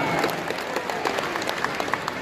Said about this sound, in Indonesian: Kita beri tepuk tangan dulu ke Partai Nasdem yang mengorganisir acara ini.